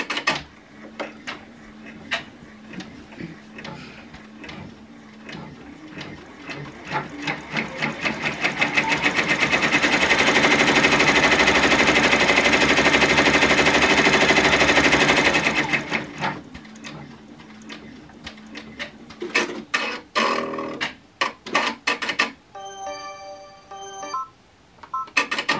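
A machine embroidery unit stitches a minky fabric appliqué, its rapid needle chatter building to a loud, steady run before stopping, followed by a few clicks and beeping tones from the machine.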